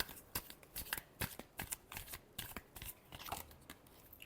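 Tarot cards being shuffled by hand, a quick run of crisp riffling snaps and flutters repeating unevenly, close and fairly quiet, with no voices.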